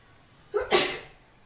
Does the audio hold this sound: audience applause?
no